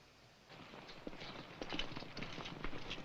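Horses walking in a 1950 cavalry western film, soft irregular clip-clop hoofbeats at moderate distance under faint background noise, no talk.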